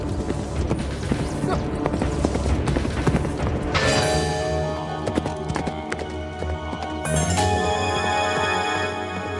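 Horse hooves clip-clop steadily as the horse is led away, a rhythmic clatter of shod steps with a brief whinny, fairly close and loud with no talk over it.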